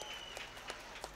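Faint, distant crowd applause at a drift competition final, a soft steady patter of clapping with a few sharper claps.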